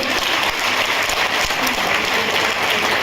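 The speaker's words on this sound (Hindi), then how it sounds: "एक बार जोरदार तालियां बजाओ अपने लिए।" An audience at a cosmetic products training session claps together in a dense, steady burst of applause that carries evenly from start to finish.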